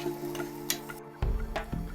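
Soya keema filling sizzles in a hot pan as it is stirred, with close scraping strokes and crackling bursts spread across a couple of seconds.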